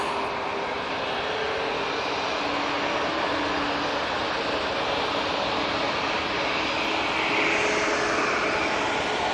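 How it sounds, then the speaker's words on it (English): A Jet2 Airbus A321neo airliner approaches to land at Manchester Airport, its broad, steady engine roar filling the air continuously from a distance without fading. "A321neo coming down towards us"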